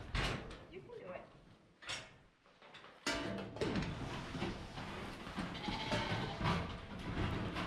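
Sheep being moved through a handling system for coat upgrades, with several bleats mixed with rattling gates and metal knocks. Scattered human voice sounds as well.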